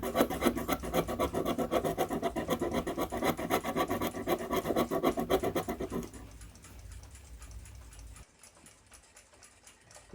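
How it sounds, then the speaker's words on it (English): A worn, elongated pivot hole in a New Haven clock plate is enlarged by hand with rapid rhythmic rasping strokes, loud and close. It then fades to quieter scraping and near-silence. "First step is to enlarge the elongated hole in the direction away from the worn section."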